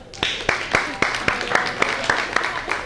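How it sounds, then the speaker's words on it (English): A small audience at a networking talk gives a round of applause: a few loud, close, evenly spaced claps in a steady rhythm standing out clearly above a thin background of scattered clapping. "A round of applause."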